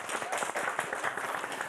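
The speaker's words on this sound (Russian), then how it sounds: "Оленька, эти аплодисменты вам." A studio audience applauding on a Belarusian evening television talk show, with dense continuous clapping from many hands filling the whole stretch at steady volume.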